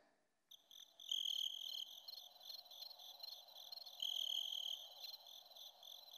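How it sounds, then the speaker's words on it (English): Steady, high-pitched cricket chirping trills on and off, fairly close and alone, with no voices. "Crickets."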